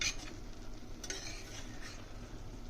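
Coconut dal being mixed in a pot, soft stirring and scraping with a faint simmering sizzle underneath, a brief metallic clink of the spoon against the pot, close and quiet with no voices.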